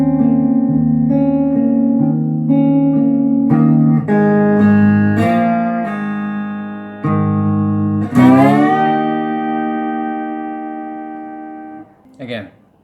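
Slide guitar plays the closing bar of a song intro, a series of sustained, gliding notes with clear harmonics, each ringing into the next, ending with a slowing final slide and a brief pluck.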